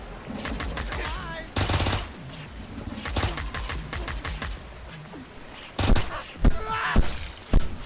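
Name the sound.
gunfire from a video game (Pigface)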